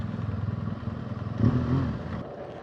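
A motorcycle out of petrol, on a freezing ride at minus eleven degrees, sputters with a low, pulsing chug that lurches once and then fades as it fails to start, close and without talk.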